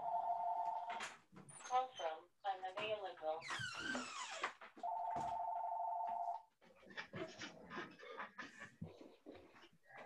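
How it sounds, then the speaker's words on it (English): Electronic telephone ringing in two long steady bursts with warbling electronic tones between them, close and fairly loud, with people talking before and after. "I'm sorry about that phone ringing."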